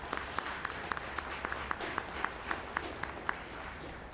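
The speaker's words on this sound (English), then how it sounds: "If we could give them a round of applause." Audience applause for two musicians at a mayor's arts awards ceremony, a fairly faint, steady patter of many hands clapping throughout, with a few sharper individual claps standing out.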